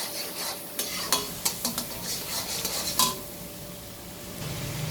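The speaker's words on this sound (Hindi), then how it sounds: "अब इसको 1-2 मिनट आप मज़ीद भून लें।" Cumin, coriander, garam masala and salt are stir-fried in a pan for dhaba-style chana dal: a series of spatula scrapes and metal clinks over a steady sizzle that settles into even frying noise.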